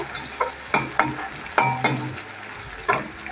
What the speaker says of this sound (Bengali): তখন এটা আমি ভেজে নেব